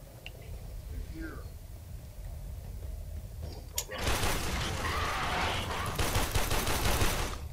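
Dense, rapid gunfire from the shooter video game Warframe erupts midway and keeps going as a loud, continuous burst, after a quieter stretch with a voice talking in the background.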